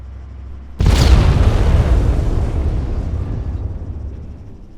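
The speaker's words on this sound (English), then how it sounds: "So there's another medium explosion with a tank." A medium IED blast goes off beside a tank in the video game Arma 3, a sudden loud boom followed by a long rumbling, hissing decay that fades slowly over several seconds.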